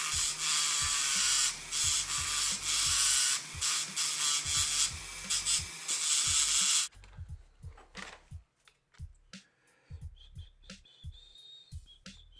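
Hand file working a crafted piece: loud continuous rasping for about seven seconds, then quieter intermittent scraping strokes with small knocks.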